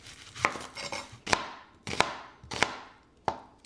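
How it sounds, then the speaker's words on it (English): A large sweet onion being chopped with a knife on a cutting board, five or six sharp separate knife strikes at an uneven rhythm, close and clear with no talking. "I'm going to chop up an onion and throw it right in there."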